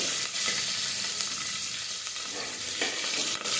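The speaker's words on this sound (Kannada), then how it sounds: "ಕಟ್ ಮಾಡಿರುವಂತಹ ಮೆಣಸಿನಕಾಯಿಯನ್ನು ಹಾಕೋತೀನಿ ಎಣ್ಣೆ ಸಿಡಿಯೋ ಚಾನ್ಸಸ್ ಇರುತ್ತೆ" Chopped green chillies frying and spluttering in hot oil for masala rice, a steady dense sizzle with crackling pops throughout, close and loud with no talking.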